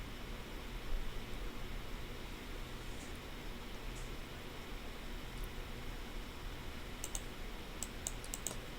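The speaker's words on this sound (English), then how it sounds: "Let's type in David Beckham." Typing on a computer keyboard, faint scattered key clicks over a steady hiss of background noise, with a brief quick burst of taps near the end and no talking.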